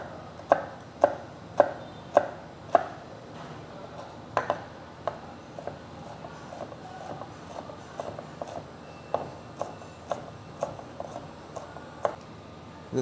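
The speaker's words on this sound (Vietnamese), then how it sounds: "mình bắt đầu cắt hành tím" A knife chopping shallots on a cutting board, with steady, evenly spaced crisp knocks repeated through the whole stretch, close and clear with no talking.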